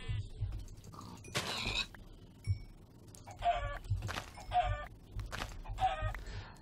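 Chicken clucks from a baby chicken in Minecraft, a video game, sound as several short, bright bursts repeated at irregular intervals, mixed with tapping clicks and a low background hum.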